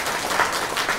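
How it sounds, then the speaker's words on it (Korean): A church congregation applauds to welcome children from a children's center, a short burst of dense crowd clapping filling the whole moment at moderate distance. "박수로 우리 환영 한번 해주실까요?"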